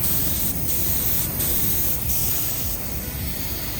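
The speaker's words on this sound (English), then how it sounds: "For this particular gun, you want to be 6 to 8 inches away from the surface you're painting" Paint spray gun coating a backyard boat, a loud continuous hissing spray held close with a few brief dips where the trigger eases, no talk.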